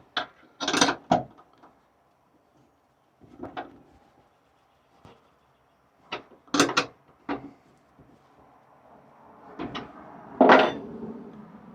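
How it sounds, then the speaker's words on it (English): A socket wrench tightens a bolt during an alternator charger install on a 2024 Chevy Colorado Trail Boss, producing several short, close bursts of ratcheting clicks separated by quiet pauses. "I'm going to come back behind this with a socket wrench so I can tighten it just a little bit more"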